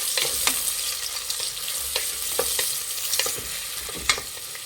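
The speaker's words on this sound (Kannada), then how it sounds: "ಈರುಳ್ಳಿ ಒಂದು ಸ್ವಲ್ಪ ಫ್ರೈ ಆಗಬೇಕು" Chopped onions frying in a pan for mushroom biryani, a continuous crackling sizzle broken by repeated scrapes of a spoon stirring.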